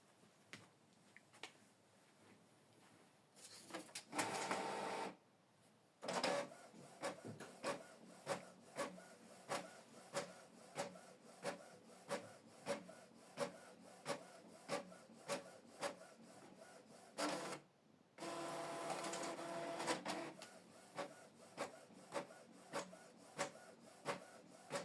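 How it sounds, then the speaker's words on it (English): A Canon PIXMA TS6550i printer printing a two-sided document, with a quick series of regular clicking ticks and two longer whirring, rubbing bursts as paper feeds, fairly quiet and close, no voices. "We want to print it two-sided."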